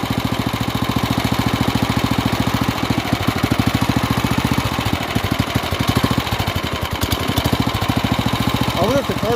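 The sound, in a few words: off-road kart engine running on choke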